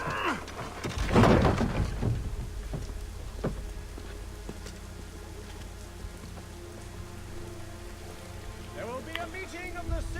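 Steady rain in Assassin's Creed 3 patters on surfaces, and a dull thump and some faint chirpy tones come through near the start and the end.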